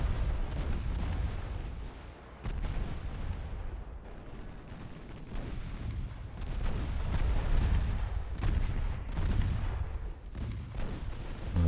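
Continuous rumbling naval gunfire in Ultimate Admiral Dreadnoughts, heavy low booms rolling one into the next over a dense battle din, loud and steady throughout with no voices.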